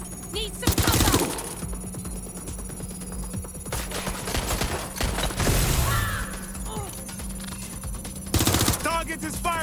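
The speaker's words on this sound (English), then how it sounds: "Target is firing!" Bursts of automatic gunfire in the Watch Dogs: Legion video game, loud rattling volleys at the start and end with scattered shots between, mixed with voices talking and game ambience.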